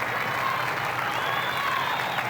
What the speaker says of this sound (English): Australia and the world stand and applaud a legend.